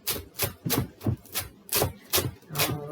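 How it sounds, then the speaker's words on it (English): Knife chopping curly kale on a board, a steady series of close, crisp thuds and cuts repeating roughly every third of a second. "and then I get to chopping."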